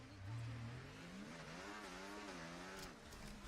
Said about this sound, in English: Let's do a burnout.